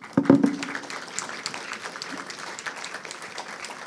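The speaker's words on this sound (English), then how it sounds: "you might just offer another round of applause for our guests, please, our panellists" Audience applause for panellists at the close of a session on mobilising social action against the environmental crisis: a sharp burst of clapping at the start, thinning into scattered, steady claps from a moderately distant crowd.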